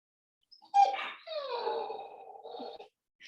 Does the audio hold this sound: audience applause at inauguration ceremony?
no